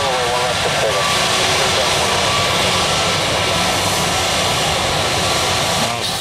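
A jet airliner takes off at Tampa International Airport, its engines making a loud, steady, broad roar that persists throughout, heard from close by with people talking over it.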